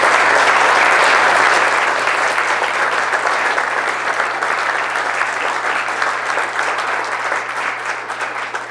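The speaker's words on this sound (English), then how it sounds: "Let's give them a round of applause for being here," An audience at a city mayoral debate claps in sustained applause, loud and dense at first, then thinning gradually over several seconds, with a faint steady hum beneath.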